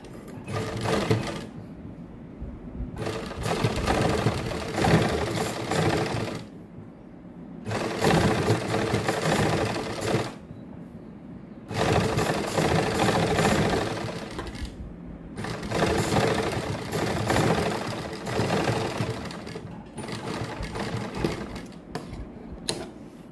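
Domestic sewing machine stitching lace along the edges of a plain suit, running in several bursts of steady rapid whirring with short pauses between, close and alone.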